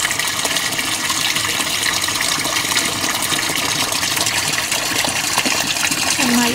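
An aquaponics siphon drains water from a 50-gallon rainbow trout tank, giving a steady, close rushing and gurgling flow that runs throughout with a slight surge near the end.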